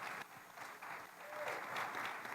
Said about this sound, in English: You got the biggest applause of the day here.